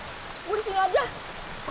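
Steady rain falls on a village lane, a soft even hiss that runs throughout, while a faint voice murmurs over it partway through.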